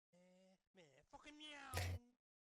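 A cat meows several times in quick succession, drawn-out close cries with one sharper louder call near the end, heard quietly in an indoor setting.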